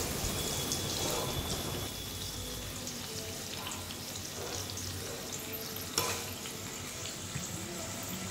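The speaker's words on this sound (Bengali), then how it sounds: "এখন এখানে দেখো চাকচাক করে আলুগুলো ভেজে নিচ্ছি" Sliced potatoes fry in a pan with a steady, dense sizzle, close by and continuous, with one sharp clink partway through and no talk.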